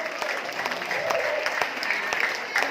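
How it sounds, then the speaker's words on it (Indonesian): Applause from an audience at a marketing-plan seminar, steady dense clapping that runs the whole time at moderate loudness with no talk over it. "Aplaus dong."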